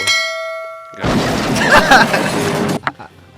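A notification bell sound effect: a bright metallic clang and ringing ding under a noisy burst, following a sustained tonal chime, then a short final ping.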